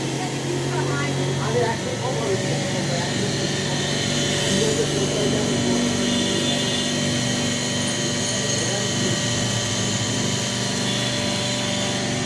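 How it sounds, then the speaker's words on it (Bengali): A rice mill multi-purpose pulveriser grinding rice into powder, a loud continuous mechanical roar with steady grinding hum throughout, close up and unbroken. "এই যে চাল দেওয়া হয়েছে, চাল সহজেই গুঁড়ো করা হবে।"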